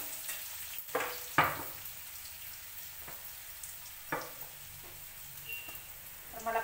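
Chutney hits guar beans frying with turmeric and salt in a pan, giving a steady close sizzle with sharp clanks and scrapes of a spoon stirring at intervals, no talking.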